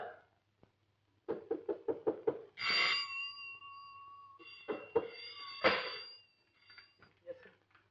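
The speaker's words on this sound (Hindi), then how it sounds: "क्यों दरवाजा खटखटाया जा रहा है?" A rapid run of knocks on a door, six or seven quick raps, then louder pounding later amid a ringing tone and a voice, heard in an indoor film scene.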